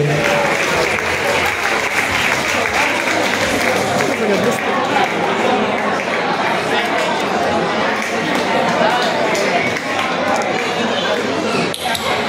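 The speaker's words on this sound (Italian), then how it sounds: "Applauso!" An audience at an evening dinner party with singing and dancing applauds, a loud, continuous clapping that blends with crowd chatter and occasional clinks throughout.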